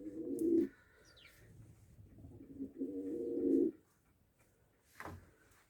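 White-tailed tumbler pigeons cooing nearby, two throaty coo phrases separated by a pause, with a short chirp and a faint rustle between them.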